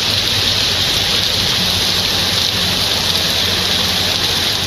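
Steady heavy rainfall during a thunderstorm in Perambalur district, Tamil Nadu, a continuous dense hiss of rain close by with no distinct thunderclap standing out.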